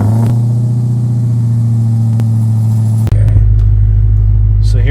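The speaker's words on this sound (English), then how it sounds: "That means we have to start the car" A 1969 Plymouth Roadrunner fitted with a Hellcat Redeye engine starting up, a loud steady droning hum that cuts off into a deep, heavy low rumble near the middle.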